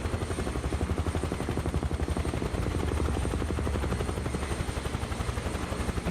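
A helicopter flies in Microsoft Flight Simulator 2024, its rotor chopping out a steady, loud, continuous pulse over a low engine drone that holds unbroken for the whole stretch.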